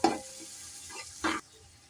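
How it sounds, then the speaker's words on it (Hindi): Ginger-garlic paste, tomato, yogurt and spices for mutton pulao frying in a pan, with a quiet sizzle and two short bursts of stirring or scraping at the start and near the middle, close by. "टमाटर, दही, ये भी हम साथ में भून लेंगे सारे मसालों को।"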